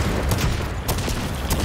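Rapid gunfire from a weapon in the video game Second Extinction, a dense loud burst of shots that blurs into a continuous roar.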